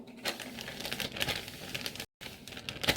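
Dry crinkling and rustling of a plastic bag laid over brushed hair, rubbed in irregular bursts close by, with one brief gap of silence near the end.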